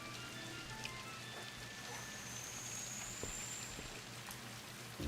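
Steady rain falls on surfaces in a dreary outdoor scene, a soft continuous patter with scattered drops, fairly quiet and even throughout, with no talk over it.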